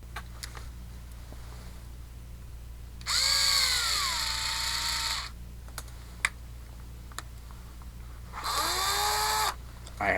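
Two bursts from a power drill, each a loud whirring of a couple of seconds that shifts pitch as it spins, separated by quiet clicking and tapping.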